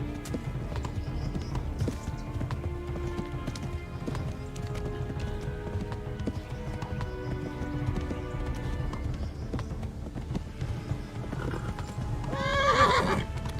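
A horse in the video game Kingdom Come: Deliverance gallops with steady clip-clop hoofbeats, then gives a loud, close neigh near the end.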